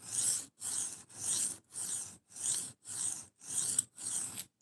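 A knife is drawn over a 140-grit diamond sharpening plate in eight even back-and-forth strokes, each a soft gritty scrape followed by a brief pause, quiet and close with no talking.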